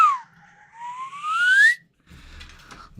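A person whistles a long rising then falling tone, loud and close, followed by a brief burst of breathy, rustling noise.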